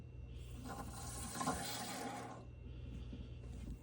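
Tap water rushes on through a newly installed Waterdrop 600G reverse osmosis system under a sink, a faint, hissing flow lasting about two seconds before easing to a quieter trickle.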